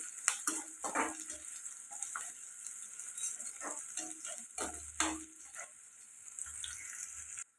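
Crushed garlic and onions frying in a pan while being stirred, a soft steady sizzle broken by light scraping and clinks of a spoon against the pan, fairly close and quiet, with no talk.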